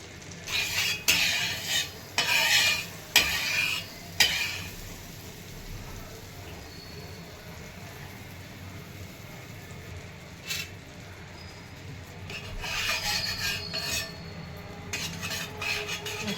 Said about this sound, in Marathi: तर आता पाव भाजून घेते